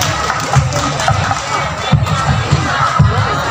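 An audience at a primary school arts performance claps and cheers together in one steady burst that runs for several seconds, loud and close, with voices mixed in.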